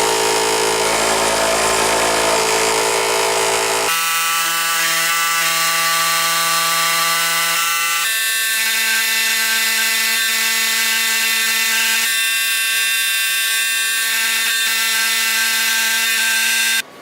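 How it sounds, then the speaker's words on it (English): Electric scroll saw cutting a workpiece of African mahogany in a workshop, a steady loud motor whine with buzzing blade reciprocation running continuously and alone, the pitch shifting slightly in stages as the cut proceeds. "that cut could be made easily at the scroll saw"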